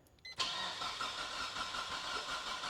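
A Mitsubishi Evo's 4G63 engine cranks briefly then catches and fires up, settling into a steady, rough-edged idle, close and fairly loud with no talking.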